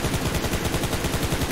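Gunfire in the mobile battle-royale game PUBG Mobile: a loud, dense burst of rapid automatic shots that fills the whole moment with an even, stuttering rhythm and no voice.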